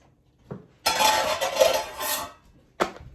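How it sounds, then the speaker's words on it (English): A lid peeled off a hot Salisbury steak TV dinner tray, a short scrape then a longer crinkly rustle of foil or plastic, followed by a brief clattering handling sound, close and alone. "So I'm going to take the lid off."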